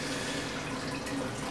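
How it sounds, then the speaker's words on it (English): A pump drains the remaining water from a planted aquarium during teardown, producing a steady, faint trickling hiss with no pauses. "Pump's gonna take a little while to drain the rest of the water"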